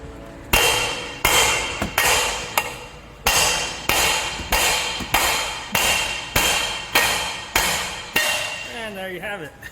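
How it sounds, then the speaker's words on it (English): A hammer strikes the lower control arm of a 2013 Mazda 5 about a dozen times in a steady rhythm. Each sharp metallic bang rings briefly, loud and close, and the blows come alone. "I get the hammer and just hit it here"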